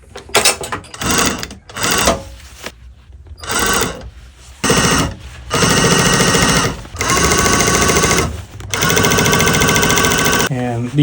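A sewing machine top stitching the inseam of a pair of jeans, running in loud, steady mechanical bursts of a second or two separated by brief pauses, with a voice speaking during some of the gaps.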